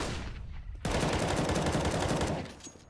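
Sustained burst of rapid gunfire in a first-person shooter match as an enemy pre-fires a common angle, a dense continuous volley lasting about two seconds that starts abruptly and tails off.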